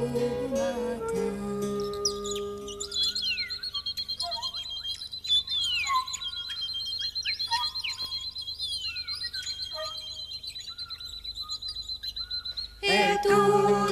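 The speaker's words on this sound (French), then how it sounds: "Les oiseaux en leur latin chantent doucement au matin." Small birds chirp and trill in the morning, with repeated high whistled calls and a sustained thin tone, moderately close, set between musical passages.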